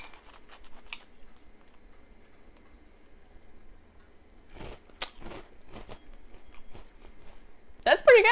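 Pumpkin spice Cheerios cereal being chewed close to the mic, with soft crunchy bites at the start and a louder cluster of crunches midway, separated by quiet pauses.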